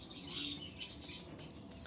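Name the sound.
pigeons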